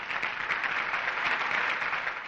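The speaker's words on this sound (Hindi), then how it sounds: "तालियों से इनका स्वागत कीजिए" Sustained applause from an audience welcoming a speaker, a dense, even wash of many hands clapping at a moderate distance with no talking over it.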